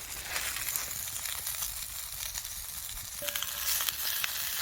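Beaver meat roasting over an open fire with steady crackling sizzle and popping fat, close and continuous, slightly louder toward the end, with no talking.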